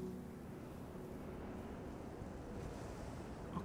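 Wind blows through the desert world of the video game Journey as a steady, soft rushing whoosh, even and low in level with no other sounds on top.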